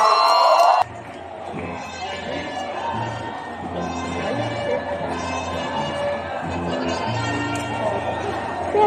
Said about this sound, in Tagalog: Pumalakpak at sumayaw kayo kung talagang mahal naman nyo ang IFER!